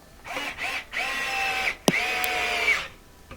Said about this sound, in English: I'll add those bolts back in with my 10mm socket